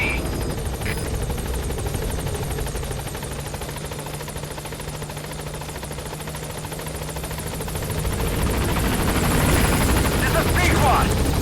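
The B-Quad support helicopter in Metal Gear Solid V approaches a landing zone with a sustained, buzzing rotor drone that dips slightly, then swells louder and closer toward the end.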